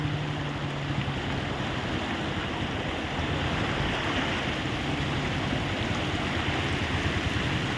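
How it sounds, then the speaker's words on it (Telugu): Floodwater rushes through a residential colony in Khammam after heavy rain, a constant broad roar of flowing water that stays level and close for the whole stretch, with no talking. "చూడండి ఎంత వాటర్ ఎలా వస్తుంది చూడండి చెరువులాగా అయిపోయింది"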